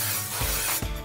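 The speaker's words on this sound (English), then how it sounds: "I'm going to spray with the Kenra hairspray again" Kenra hairspray sprayed onto freshly curled pageant hair in two short hissing bursts, each ending with a quick click of the nozzle, close up with no talking.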